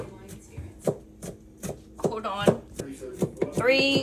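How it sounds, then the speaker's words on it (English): A knife chops a quarter onion finely on a cutting board with steady, close, rhythmic taps, while a voice talks over part of the cutting. "we're also going to cut up about 1/4 of an onion, finely diced, and add in"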